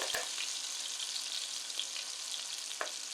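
Garlic scapes frying in olive oil and butter in a pan, a steady close hiss of sizzling with faint crackles and one brief clink.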